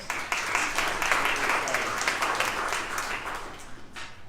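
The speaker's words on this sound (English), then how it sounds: "Give them a round of applause." Audience at a chamber of commerce coffee meeting applauds the Clear Lake girls track team, a steady wash of clapping that fades toward the end.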